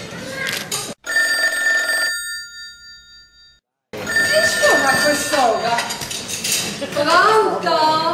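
A telephone rings in repeated bell bursts, first alone, then after a brief silence under people talking, with clinking dishes and cutlery nearby.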